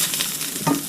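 Sausage sizzles and crackles in a hot pan, a steady close hiss with a brief stir partway through, and no one speaking.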